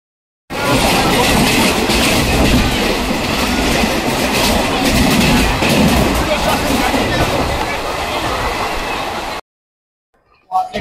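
A loud, steady rumble of a train rolling along the tracks toward Bolpur, with faint rhythmic clatter, cutting off abruptly near the end.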